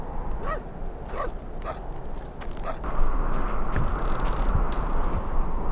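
Small dog yipping and barking in a few quick bursts in the video game Syberia, fairly close, followed by a louder rumbling background noise.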